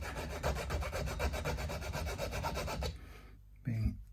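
A file rounds off the ends of stainless steel frets on a Telecaster-style guitar during a refret, rasping in quick even strokes up close, then stopping, followed by a brief soft knock or movement.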